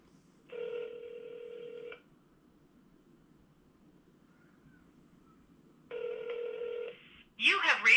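Telephone ringback tone on an outgoing call, two long electronic rings separated by several seconds of quiet, followed by a voice starting to speak.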